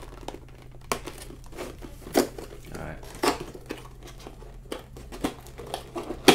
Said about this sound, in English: this is what I get for using a pencil to break plastic and stuff